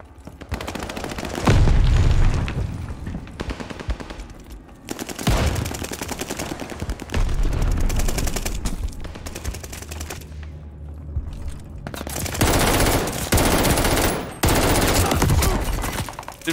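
Loud bursts of automatic gunfire from a rifle in Call of Duty Vanguard multiplayer, several rapid volleys with short pauses between them, close and dominant throughout.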